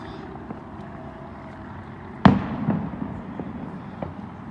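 A single sharp Fourth of July firework bang bursts out, followed by a rumbling echo and a few fainter distant pops over steady background noise.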